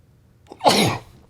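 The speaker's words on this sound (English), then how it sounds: "I wanted to sneeze and get it out of the way" A single close, sharp sneeze bursts out after a short inhale, then quiet.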